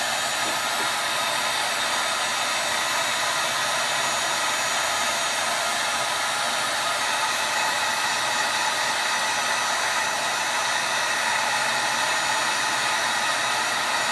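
A heat gun blows steadily while heating a heat-shrink fishing rod sleeve, giving a constant loud hissing, whooshing airflow that runs unbroken throughout with no talk.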